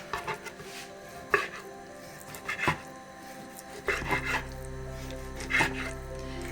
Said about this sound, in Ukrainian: Беру грудинку курячу, нарізаю такими шматочками